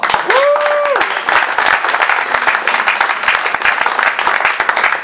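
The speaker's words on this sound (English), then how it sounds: "Ladies and gentlemen, let's give it a round of applause." A crowd at a celebrity boxing press conference claps and cheers to welcome referee Tone Trump, steady applause with a brief rising whistle or whoop near the start and voices mixed in.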